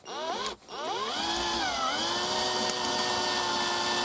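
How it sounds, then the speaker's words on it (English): A loud electric drill with a dull bit whines steadily, its pitch sagging and recovering as it drills out a metal rivet on a Dodge Dakota headlight switch, with a brief stall near the start. "I think my drill bit's dull."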